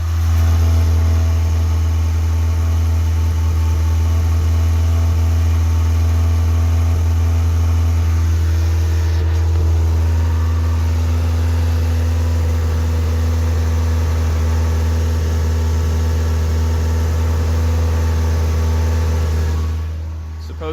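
A 1986 Toyota MR2 engine idles steadily and smoothly nearby, its low even hum holding constant for about twenty seconds before cutting off at the end.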